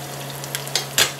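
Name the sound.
pork steak cutlet frying in oil in a pan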